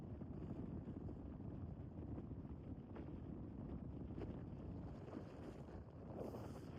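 Cold wind on the seafront at Skegness buffets the microphone in a constant low rumble and roar, steady and close throughout with no voices.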